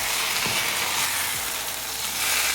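Eggplant and sweet potato sabzi cooks in a pan over medium-low heat, a steady close sizzle with a soft scrape or two as the mixture is stirred.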